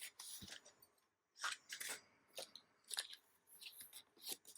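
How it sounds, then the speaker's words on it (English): Scissors cutting cork or vinyl wallet pieces from a template, a close series of crisp snipping and crunching cuts in irregular bursts with brief pauses, no talk. "Just use them to cut your pieces."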